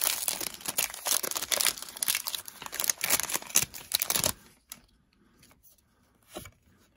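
A Pokémon Shining Legends foil card pack is ripped and crinkled open up close, a burst of loud crackling and tearing for several seconds, then a few faint rustles and one last soft crinkle in near quiet.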